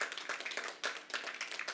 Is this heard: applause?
yes